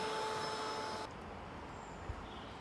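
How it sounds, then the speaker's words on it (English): A pond vacuum working on a koi pond in winter, a steady droning motor hum with a whine that cuts off abruptly after about a second, leaving quieter outdoor background noise. "you see me vacuuming, let me vacuum and I'll get back to you"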